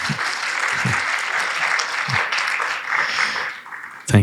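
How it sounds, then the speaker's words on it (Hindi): A large audience at a religious ISKCON gathering in Ujjain breaks into loud, steady applause that fills the hall for several seconds with a few scattered thumps, then cuts off sharply. "ताली बजा सकते हैं वैसे।"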